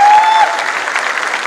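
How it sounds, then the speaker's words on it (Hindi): An audience claps loudly at a corporate event in a hall, a dense burst of applause that fades slightly over a second and a half. "जोरदार तालियां होनी चाहिए इनके लिए"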